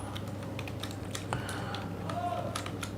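Rapid clicking keystrokes on a computer keyboard, a quick irregular run of taps heard close over a low steady hum, with no speech.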